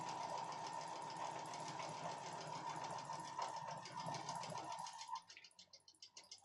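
A sewing machine runs steadily at speed, stitching long pieces of fabric, its dense mechanical whir continuous before easing into slower, uneven bursts near the end.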